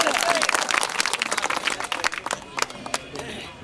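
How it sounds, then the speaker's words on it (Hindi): A crowd at a political rally in Shamli claps to welcome a candidate to the stage, a dense patter of applause that slowly thins out, with voices mixed in. "उनका जोरदार ताली स्वागत करेंगे।"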